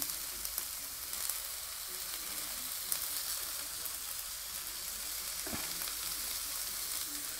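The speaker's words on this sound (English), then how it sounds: "I'm going to put the soy sauce in" A Chinese-inspired stir fry mix sizzles steadily in a hot pan as out-of-date 2010 soy sauce goes in, a continuous close frying hiss with one small clatter partway through.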